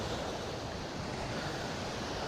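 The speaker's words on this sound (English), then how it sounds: "It's a bit wavy, but once you get out far enough, the waves won't bother you." Sea waves washing onto a beach with people swimming nearby, a steady broadband surf roar with some wind, continuous and fairly close with no pauses.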